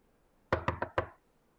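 Four firm knocks on a door, close and clear, in a quick uneven sequence with no talking around them.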